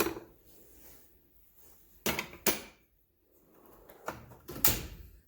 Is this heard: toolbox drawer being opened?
yes